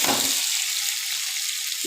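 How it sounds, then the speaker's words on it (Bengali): Pieces of elephant foot yam (ol) frying in hot oil make a steady, close, hissing sizzle with a brief louder spatter at the start and end, and no talking. "ওলগুলো আমি একটু ভেজে নিচ্ছি বেশি লাল লাল করে"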